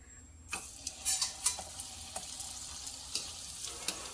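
Nel pori vadam, a sun-dried puffed-rice crisp, fries in very hot oil, giving a soft bubbling sizzle with a few sharp crackles and pops near the start before settling into a steady low fizz.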